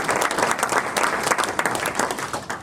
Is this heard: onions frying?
no